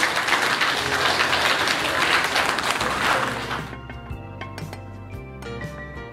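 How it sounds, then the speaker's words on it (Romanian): Applause for newlyweds at a wedding: a loud, dense crowd clapping that fades after a few seconds as sustained music takes over. "rog să le aduceți aplauze tinerilor"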